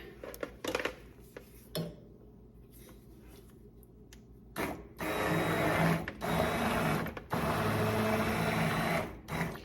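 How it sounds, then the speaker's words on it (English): An immersion blender works through autumn squash soup, buzzing in short bursts at first, then running in two long, loud stretches with brief pauses between them, close up with no talk. "Got my immersion blender."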